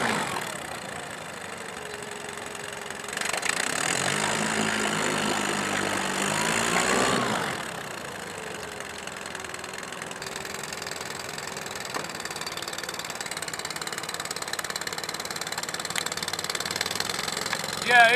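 A 2010 Yamaha 15 hp four-stroke outboard motor runs steadily with a slight vibration, a constant mid-pitched hum throughout, with a louder surge partway through; someone talks over it at times.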